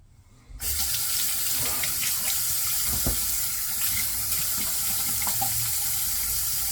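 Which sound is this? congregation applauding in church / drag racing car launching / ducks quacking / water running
water running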